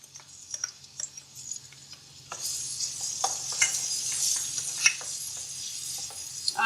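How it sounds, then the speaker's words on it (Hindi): Garlic ginger paste frying in a small amount of oil over medium heat, with soft continuous sizzling and occasional light clicks of a spoon stirring, close by and fairly quiet. "लहसुन और अदरक 1 मिनट के लिए फ्राई करके"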